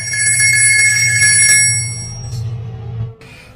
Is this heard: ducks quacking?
no